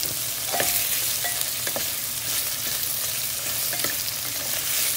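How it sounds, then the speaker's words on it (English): Shrimp fry in a pan for a shrimp and scallop spaghetti alfredo, giving a continuous close sizzle with light clinks of stirring and no voices. "You cook until pink na yung hipon."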